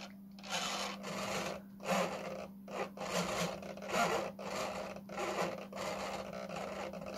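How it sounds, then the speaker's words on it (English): A servo on an Ocean Breeze Junior model aircraft, driven by a servo tester, moves the control surfaces in repeated whirring, rasping bursts over a steady low hum, close by with no talking. "Now I've just fixed it up on a servo tester"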